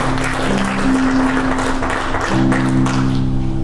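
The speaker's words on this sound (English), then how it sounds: "Get a little hand clap" Members of a church congregation clap their hands during a sermon, a steady wash of clapping held throughout while a sustained organ or keyboard chord plays underneath, shifting pitch partway through.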